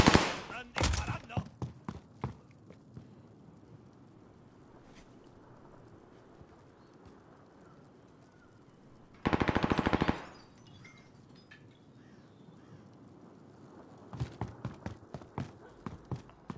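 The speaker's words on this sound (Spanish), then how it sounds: "¡Están disparando!" Bursts of rapid gunfire in a battle-royale video game: a sharp volley at the start, a loud sustained burst of automatic fire midway, then scattered shots near the end, over a quiet ambient background.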